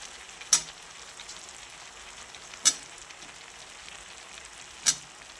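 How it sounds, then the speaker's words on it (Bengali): Tomatoes added to a pan of onion greens and vegetables give a faint, low sizzle, broken by three sharp spatula clicks spaced about two seconds apart, with no talk. "এবার টমেটোগুলো দিয়ে দিলাম।"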